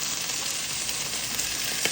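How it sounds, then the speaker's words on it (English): Brussels sprouts sizzle in a hot pan, a steady, fairly faint crackling hiss with small scattered pops throughout. "we're going to go ahead and put these Brussels sprouts in this pan here"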